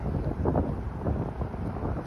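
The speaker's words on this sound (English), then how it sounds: "And unfortunately, it's windy today." Steady, blustery wind buffets the microphone with a low, rumbling roar that keeps surging and easing throughout.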